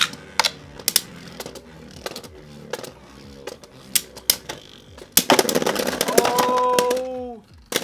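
Beyblade Burst tops Strike Valtrek and Doomsizer battle in a stadium with sharp plastic clicks and clacks as they collide, then a loud grinding scrape and a ringing metallic whine as one bursts.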